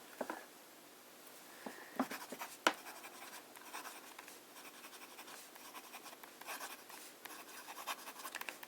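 A fountain pen with a medium nib writes on copier paper with Rohrer und Klingner Salix ink, a faint, close scratching of strokes with small taps and pauses, quiet and steady.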